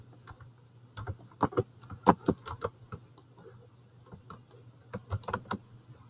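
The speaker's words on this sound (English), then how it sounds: "We're going to type in the Statue of Liberty and click search." Fingers tapping out a search on a computer keyboard in irregular clusters of crisp, close clicks with brief pauses between bursts, over a steady low electrical hum.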